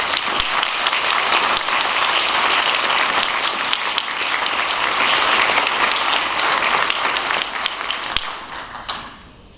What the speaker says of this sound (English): please join me in a round of applause for the Distinguished Honor Graduate and all the award recipients